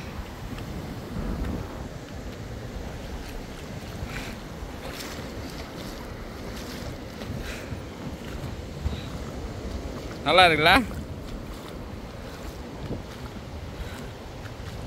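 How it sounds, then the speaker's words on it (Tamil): Small, gentle sea waves washing in at Muzhappilangad beach in Kerala, a soft continuous surf wash under steady wind buffeting the microphone, with a person briefly speaking partway through. "இதெல்லாம் ரொம்ப சின்ன அலை."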